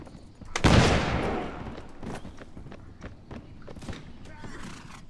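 Musket fire in Mount & Blade, one loud, close gunshot with a long rolling tail, followed by fainter scattered shots and thuds as someone talks over the scene.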